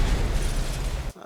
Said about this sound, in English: Dropping some bombs on that guy.